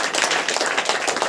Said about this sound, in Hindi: ताली बजा के बोलो